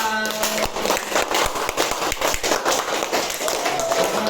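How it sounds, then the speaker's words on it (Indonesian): Classroom applause for a student group that has just finished presenting, a dense run of many hands clapping at close range with a few sharper individual claps, continuing steadily for several seconds. "beri aplaus untuk kelompok visual"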